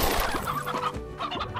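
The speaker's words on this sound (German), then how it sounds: "Hier diese komischen Hühner." Chickens of the odd scrub-fowl kind in the video game Slime Rancher cluck repeatedly and loudly over a busy game soundtrack, with no speech.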